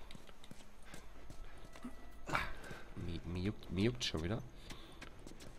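Horse hooves clip-clopping at a walk in The Last of Us Remastered, soft rhythmic steps running steadily underneath while someone talks.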